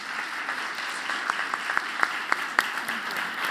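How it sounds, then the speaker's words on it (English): An audience claps, a loose patter of applause with a few louder individual claps standing out, fairly close and continuous. "join me in giving the staff who really put this on a round of applause"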